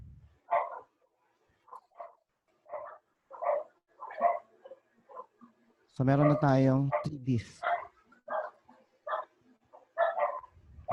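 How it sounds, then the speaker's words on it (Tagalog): A dog barks in a burst of loud, close barks partway through, with people talking in Filipino before and after amid a home server build setup. "May aso pare. Baka makagat kayo."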